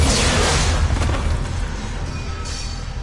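A bomb blasts in Mass Effect Legendary Edition, a single loud boom with a heavy low rumble that decays over a few seconds, with a faint crackle trailing after.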